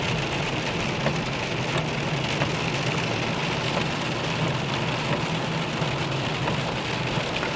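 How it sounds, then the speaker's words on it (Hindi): Heavy rain pounds a car in Taif, Saudi Arabia, as the wipers run, making a dense, steady hiss heard from inside the vehicle without a break. "तो ये देखें कितनी तेज़ बारिश हो रही है, ये देख सकते हैं आप।"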